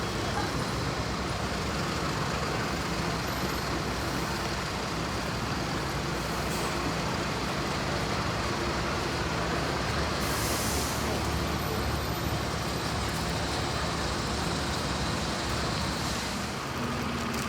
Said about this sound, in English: Here is a first West of England Volvo B90L Right Eclipse Gemini 2 on the 522 service bound for Bath via Radstock